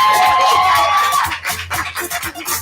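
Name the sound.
audience applause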